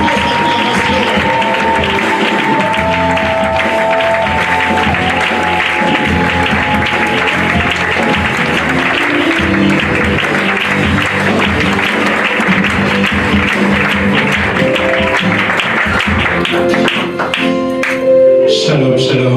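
A convention crowd at a church ministry launch applauds and acclaims an arriving bishop, sustained clapping blended with musical tones and a continuous crowd wash, loud and unbroken for nearly twenty seconds with sharper claps near the end.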